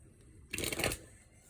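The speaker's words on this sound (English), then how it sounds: "Let me shuffle down here." Tarot cards are shuffled in one quick riffle lasting about half a second, close and crisp against an otherwise quiet room.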